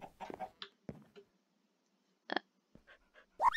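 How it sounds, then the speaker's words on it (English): A wolf in modded Minecraft survival gameplay gives a few short, close whines and yips in separate bursts with quiet gaps between them. "I think it's this little wolf that has the doggy talents."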